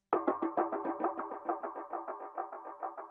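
A percussive synth hit repeats through a u-he Colour Copy analog delay, echoing rapidly in an even pulse that slowly thins and fades, clean and isolated.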